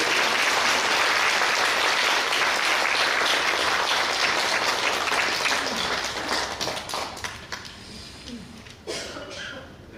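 A church congregation at a Christmas service applauds the choir, dense steady clapping that thins out and fades into scattered claps near the end.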